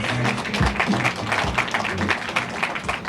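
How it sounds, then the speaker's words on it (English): An audience at a Tanishq boutique ribbon-cutting ceremony claps in a steady, dense round of applause, moderately loud and close, with a low voice or murmur running underneath. "please give Kuruvala Marcos a big round of applause"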